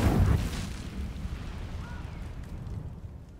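An Incendio fire spell cast in the PS5 game Hogwarts Legacy erupts in a deep whooshing burst, then trails off into a low rumbling fade.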